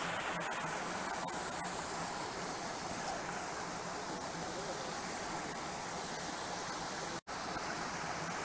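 Steady, dense roar of rushing water from a waterfall under a bridge in Van Sickle Bi-State Park near Lake Tahoe, constant and fairly loud throughout, with a brief dropout near the end.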